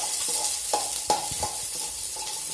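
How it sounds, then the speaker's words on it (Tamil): Small shallots sautéing in a pan for a Tamil-style medicinal curry: a steady soft sizzle with occasional stirring scrapes and clinks of a spoon, close and continuous, with no voices. "சின்ன வெங்காயம் நல்லா வதங்கட்டும்."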